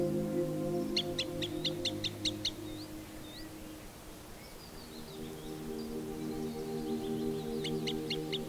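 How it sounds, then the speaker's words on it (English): Birds at a small pond give bursts of rapid high trills at the start and again at the end, with scattered faint chirps between, all over a steady low hum. "I was surprised over how many birds live in this small pond."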